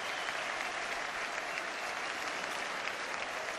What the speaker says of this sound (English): a standing ovation for the Argentinian